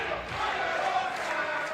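A Hungarian crowd at Kossuth Square roars for a 3x3 basketball game at an Olympic qualifying tournament, a dense, continuous wash of cheering and shouting voices.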